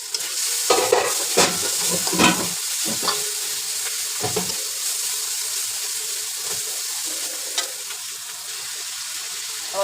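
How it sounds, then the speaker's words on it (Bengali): Masala is stir-fried in a pan with a steady sizzle, broken early on by a run of brisk spatula scrapes and knocks that then settle into an even, close frying hiss. "কিছুক্ষণ আমি কষায় নিব মশলাটা"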